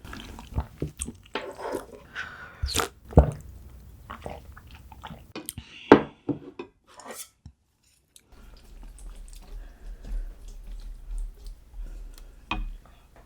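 Close-up eating of gopchang jeongol, a beef tripe hot pot spooned with its broth, with soft wet chews and bites in irregular bursts separated by quiet pauses.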